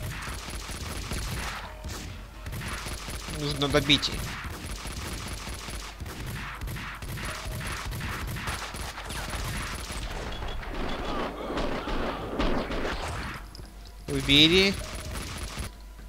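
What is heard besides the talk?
gunfire in video game Max Payne 2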